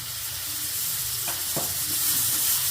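Chilli powder and turmeric frying in a hot pan for Bombay chutney, a steady close sizzle with a few brief stirring clinks, no voices.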